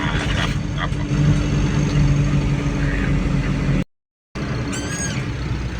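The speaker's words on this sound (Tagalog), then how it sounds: "Medyo matraffic po dito ngayon." Steady engine drone and road rumble from a car moving slowly through congested traffic on a Sunday drive from Cabiao to San Miguel, interrupted by a brief dropout, with faint chirping near the end.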